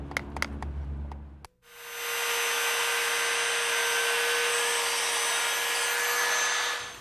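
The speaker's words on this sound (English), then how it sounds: "Like this new Dewalt Model 660 drywall outlet cutter." A Dewalt Model 660 heavy-duty drywall outlet cutter spins up after a few handling clicks and settles into a loud, steady high-pitched whine that runs unbroken to the end, then begins to wind down.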